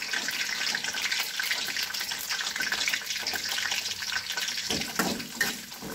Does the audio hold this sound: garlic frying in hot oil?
yes